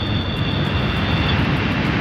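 A Boeing 747, the Cosmic Girl jet, rolls down the runway on takeoff, producing a steady, loud, broadband jet engine roar without any break across the whole stretch and no voices.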